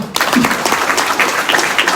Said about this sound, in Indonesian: Tepuk tangan buat PT Base.